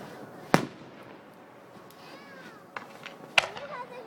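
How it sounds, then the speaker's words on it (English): Backyard fireworks on New Year's in Wellsburg, set off for an anniversary, give two sharp, loud bangs a few seconds apart, with whistling, crackling trails and faint voices between them. "These are our anniversary fireworks."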